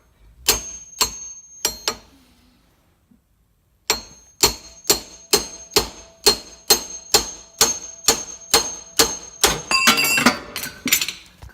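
A hammer strikes to separate a steering knuckle on an IS300, giving a few ringing metallic whacks, then a pause, then a fast steady run of about fifteen sharp, close clanks with a bright ring.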